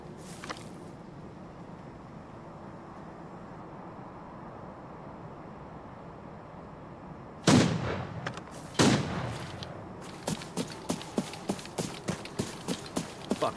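Two loud gunshots ring out in Arena Breakout Infinite, a covert ops PMC hunt, followed by a quicker series of sharper shots or impacts, all over a low steady ambient hum with no talking.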